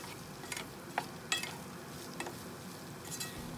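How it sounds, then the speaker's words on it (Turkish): Onions with garlic and a little salt sautéing in a pot on the stove give a soft, steady sizzle, quiet and close, with a few faint clinks of a stirring utensil and no talking. "Soğanlar ölene kadar kavuracağım. Yarım tatlı kaşığı kadar tuz ekleyip kavurmaya devam ediyorum."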